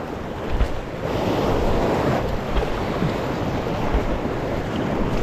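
Ocean waves surge and wash steadily close by, mixed with gusting wind buffeting the microphone from a small fishing boat out on the water; continuous and fairly loud, with no voices.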